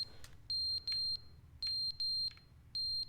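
A shrill electronic alarm in the video game The Stanley Parable beeps in a repeating on-off pattern of short and long tones, loud and steady over a low background hum, with no talking.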